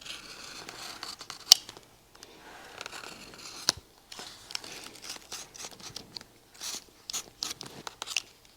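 Stacked box-calf leather layers on a shoe heel are cut together with a blade, giving a series of quiet, close snips and crunchy clicks with short pauses between cuts.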